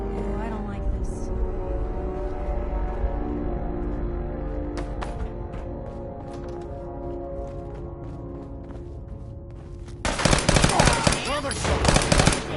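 Gunfire in a PS5 video game: rapid, loud bursts crackle near the end after a stretch of rumbling battle ambience, with voices speaking over the action.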